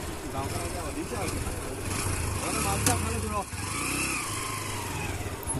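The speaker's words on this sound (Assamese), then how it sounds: "মোৰ বাইকখন লৈ গৈ আছে ফেৰীৰ ওপৰত উঠাবলৈ" A motorcycle rumbles as it is ridden onto a river ferry on the Majuli to Sivasagar crossing in light drizzle. The engine drones nearby with slight revs, while voices can be heard around it.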